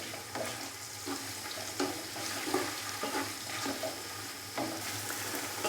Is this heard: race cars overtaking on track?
no